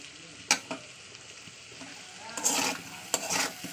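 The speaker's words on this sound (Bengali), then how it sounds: "তো এরকম তেলেও ভাজতে হবে" Potatoes frying in hot oil, about eighty percent parboiled, give a steady sizzle broken by sharp stirring clatters near the start and swelling hisses later, with no one talking.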